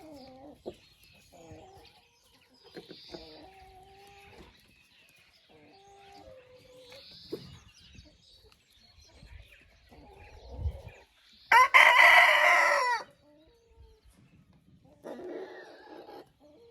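A backyard flock of chickens clucks in short, scattered calls, then a rooster lets out one loud, drawn-out crow near the middle, followed by more soft clucking close by.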